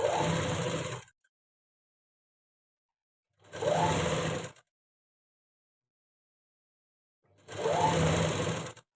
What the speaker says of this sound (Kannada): ಪಲ್ಟಾಯಿಸ್ಬಿಟ್ಟು ಸ್ಟಿಚ್ ಮಾಡಿಬಿಟ್ರೆ ಅದು ನೀಟಾಗಿ ಕುತ್ಕೊಳ್ಳುತ್ತೆ